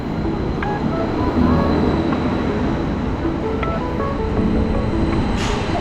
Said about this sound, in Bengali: প্ল্যাটফর্মে ট্রেন আসছে এটাই আমাদের ট্রেন